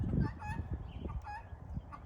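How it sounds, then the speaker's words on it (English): A chicken clucks and murmurs close by on a farm in a series of short, uneven calls, loud and with no one talking. "I see you, chicken."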